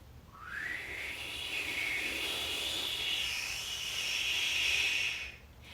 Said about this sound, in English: And then we're going to exhale with the whistle out the mouth.